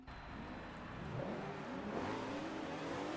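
A race car engine in Forza Motorsport 2, fitted with horsepower upgrades, revs up with rising and falling pitch sweeps, loud and steady with no talk over it.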